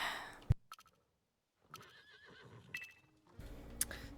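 A horse in the Star Stable Online video game gives a clear whinny, joined by clip-clop hoof steps and other short game sounds separated by brief silences.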